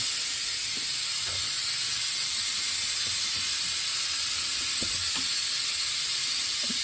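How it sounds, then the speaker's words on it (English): Oil extractor pump running during an engine oil change and flush on a 2011-2017 Honda, a loud steady hiss with faint mechanical ticks and clicks, continuous throughout, close by with no talking. "it's going to get loud because I'm going to turn the extractor on"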